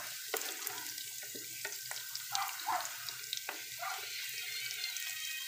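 Vegetables frying in oil for chicken pochero, a steady hissing sizzle with scattered crackles and pops, close by and continuous throughout.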